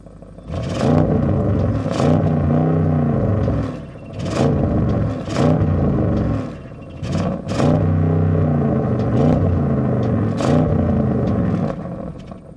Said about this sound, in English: I definitely hear more pops and crackles and bangs from the exhaust